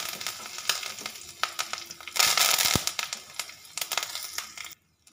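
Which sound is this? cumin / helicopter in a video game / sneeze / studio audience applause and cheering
cumin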